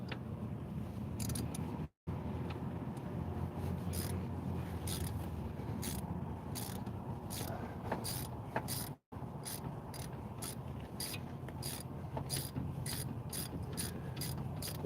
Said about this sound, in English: Pull these bolts out of the slides.